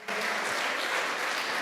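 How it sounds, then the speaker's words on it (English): Audience members at a university research conference on media and communication break into steady, dense applause, a continuous wash of clapping throughout the short moment. "Clap for Madam Sylvia."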